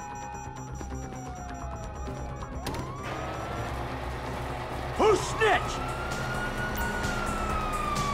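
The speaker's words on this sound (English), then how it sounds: "you hear that? Sirens." Wailing police sirens in Grand Theft Auto V rise and fall in the distance behind a steady rumble of traffic, while a voice speaks briefly over them.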